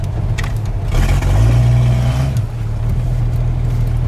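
A Jeep's engine rumbles close by and swells into a loud rev for about a second before settling back to a steady drive over rough ground in a back field.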